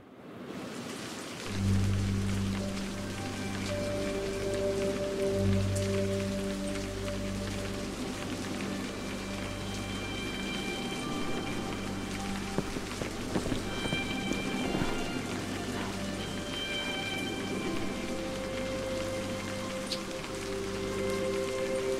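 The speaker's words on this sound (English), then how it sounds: "The rain stops, and the air clears." Rain falls steadily in the video game A Highland Song, a continuous wash of drops on surfaces that holds at an even level throughout. A sustained low musical drone and faint tones play underneath it, and no one speaks.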